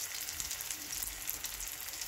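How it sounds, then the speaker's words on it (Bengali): Onion and tomato frying in hot oil in a pan, a steady close sizzle with soft crackles and faint low stirring bumps, no voices. "তেলের মধ্যে পেঁয়াজ টমেটো দেওয়া হয়েছে।"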